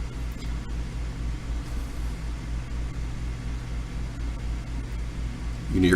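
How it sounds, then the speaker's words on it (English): Steady low whirring computer fan hum fills the background at a constant level, broadband and unchanging, with no voices over it. "Yeah, that's the sound of a fan"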